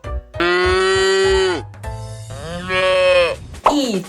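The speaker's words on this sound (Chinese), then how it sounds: "哞哞哞。" A cow gives two long, drawn-out moos, loud and near, the second lower and wavering, over a soft rhythmic backing track.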